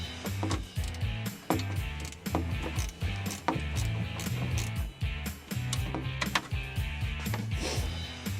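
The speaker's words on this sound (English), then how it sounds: "For the front, I'm going to use a 10mm crow's foot ratcheting wrench." A 10mm crow's foot ratcheting wrench works on a Dodge Ram headlight, making a steady run of crisp, close ratchet-pawl clicks in quick rhythmic strokes throughout.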